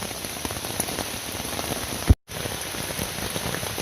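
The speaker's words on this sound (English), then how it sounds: "I am taking this opportunity to gather some water as it rains" Steady rain pattering on a surface nearby, a dense continuous hiss of drops with a brief dropout partway through, while rainwater is gathered in a plate and several cups.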